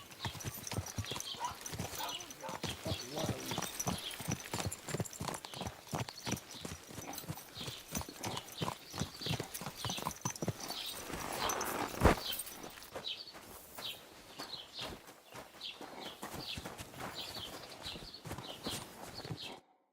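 Horse hooves clip-clopping at a steady walking rhythm in the medieval video game Kingdom Come: Deliverance II, close and regular, with a sharp knock midway and faint ambient birds behind.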